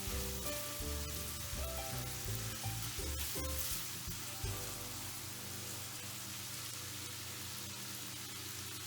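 Ground beef with sriracha sauce sizzles steadily in a frying pan, a dense, even crackle that runs throughout, with a low hum in the background early on.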